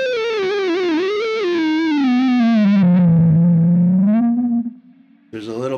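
An electric guitar runs through the Neural DSP Archetype Petrucci amp simulator with a pitch-glide pedal, sounding as a distorted sustained note that swoops down in a dive-bomb bend, holds low, then cuts off before a short burst returns.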